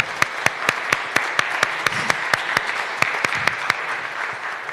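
An audience applauds the winner of a classic car draw for a 1979 Austin Morris Mini 850, a sustained, close round of clapping with sharp, regularly spaced individual claps standing out above the crowd.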